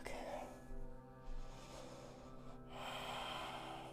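During a yoga flow into downward dog, a slow audible exhale through the nose rushes out close and steady, with softer breathy pulses along the way.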